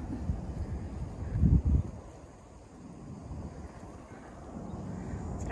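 Wind blows across the microphone on the summit of Lion Rock, a low, uneven rumble that swells into a strong gust and then settles into a softer, steady breeze.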